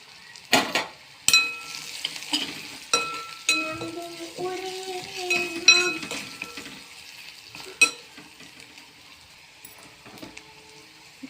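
Red chili powder, black masala, salt and turmeric sauté in a hot pan, with a steady sizzle broken by repeated clinks and scrapes of a spoon stirring against the metal.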